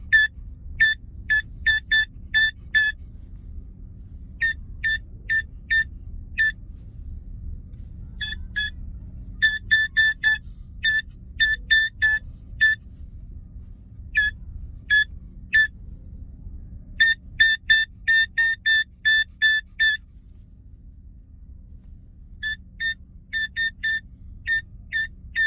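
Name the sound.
phone beeps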